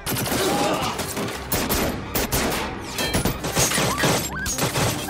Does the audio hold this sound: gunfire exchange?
yes